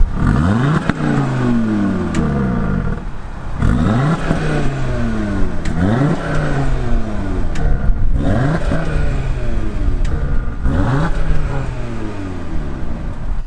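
An Audi RS Q3 Sportback revs repeatedly outside the car, about five sharp bursts that climb and drop back to idle in a regular rhythm, loud and close with no talk.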